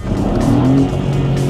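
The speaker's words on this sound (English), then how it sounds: "I can hear the exhaust completely" A BMW prototype's 1.5-liter three-cylinder twin-turbo engine drones low and loud from the exhaust while driving, a steady close rumble with a brief rising tone in the middle.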